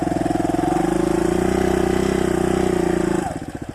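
A 2015 Suzuki DR200 dual-sport motorcycle engine drones steadily at high revs while riding through woods, loud and close, then the tone drops and sputters as the throttle eases near the end.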